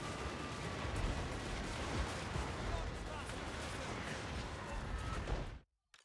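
Dense, continuous booming of cannon fire in Total War: Warhammer II rolls on in a loud, rumbling barrage, then cuts off abruptly into near silence.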